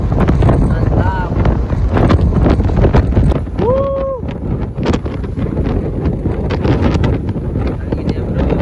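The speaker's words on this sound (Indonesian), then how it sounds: "Angin ya bro." Strong wind buffets the microphone on a boat at sea, with gusty roaring that rises and falls continuously and a few brief voice-like sounds in the mix.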